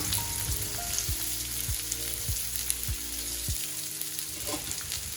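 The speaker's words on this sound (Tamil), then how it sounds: "வெங்காயத்தை நல்லா பொன்னிறமாக வர்ற வரைக்கும் வறுத்துக்கணும்" Finely chopped small onions frying in oil with cinnamon and fennel for a country chicken fry; a steady close sizzle and crackle, with a few scraping stirs of a spoon against the pan.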